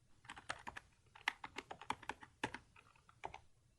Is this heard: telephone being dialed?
no